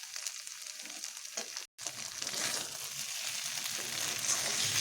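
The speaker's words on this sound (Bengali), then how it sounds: "এবার ঘিটাকে ভালোভাবে মিশিয়ে নেব।" Ghee stirred into pointed gourd and Gobindobhog rice in a pan, a steady sizzle with scraping stir strokes, briefly cut by a short gap before the frying hiss resumes and grows slightly louder.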